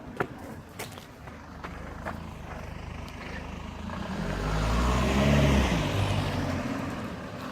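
A car passes on a street by Spain's second-longest beach, building from a faint rumble to a loud close pass and then easing away, under steady outdoor background noise.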